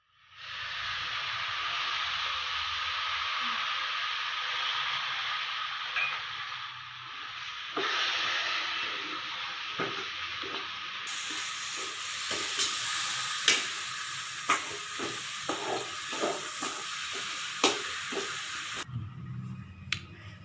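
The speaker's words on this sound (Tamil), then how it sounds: "ஒரு கப் பால் ஊற்றிக்கலாம்." Cup of milk poured into a hot rava laddu mixture with cardamom in a pan, giving a steady loud sizzle and hiss that thins out, broken by sharp stirring clicks and taps near the end.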